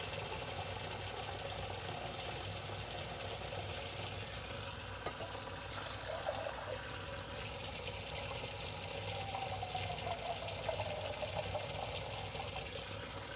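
Filtered water, three and a half cups, poured into a glass pot for cooking rice, making a steady, continuous rushing pour at moderate volume with no talk over it.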